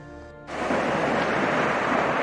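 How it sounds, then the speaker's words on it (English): A river flowing past a hydroelectric power plant on a mountain trail gives a dense, steady rush of water that swells in after a brief tonal moment at the start and holds constant. "So just left the power plant and cross over this river."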